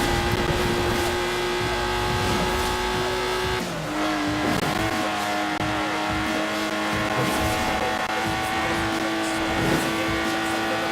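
A Lotus Exige engine drives in Forza Horizon 4, a loud continuous buzzing drone that holds steady, dips briefly as the revs shift, then climbs again with tire noise, close and alone.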